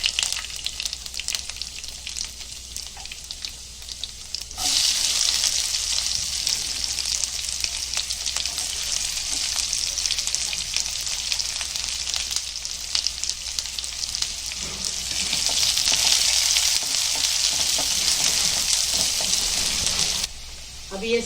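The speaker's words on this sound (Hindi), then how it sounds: "अभी लहसुन डालेंगे और जीरा डालेंगे, अच्छे से भूनेंगे।" Garlic, cumin, onion and chili fry in hot oil for a Konkani bhindi bharta, a steady close sizzle that swells louder as ingredients go in, with occasional stirring scrapes.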